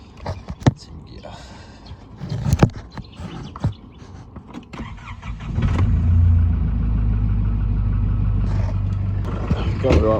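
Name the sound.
BMW E30 car engine idling after a cold start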